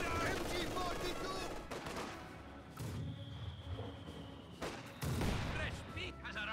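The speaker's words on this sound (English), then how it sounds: "Shoot them down. MG42." MG42 machine guns rattle in Company of Heroes 2, with rapid bursts and booming impacts amid battle noise, while voices speak over the firing.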